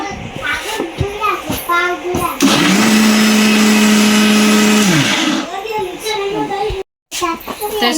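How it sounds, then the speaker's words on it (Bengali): An electric kitchen blender grinds raw rice in a loud, steady whirring burst lasting a few seconds, with a person talking before and after the run. "এই যে চাল হচ্ছে ভাঙাইতেছি"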